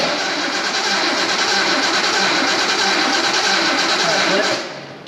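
Engine of a 1973 Datsun 240Z fitted with a turbo, left sitting more than 20 years, cranking steadily and loudly for several seconds before fading at the end.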